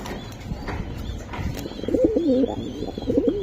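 Racing pigeons coo softly and repeatedly in a loft, with a low rolling murmur rising toward the end over steady background noise.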